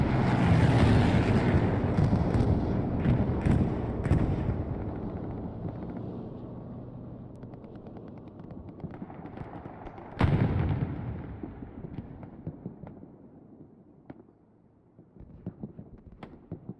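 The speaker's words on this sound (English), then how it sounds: "Here comes that bombing run we discussed" Bombing-run explosions in Hell Let Loose, a heavy rumbling barrage that fades out gradually, followed by another big blast at mid-clip and scattered distant cracks and booms.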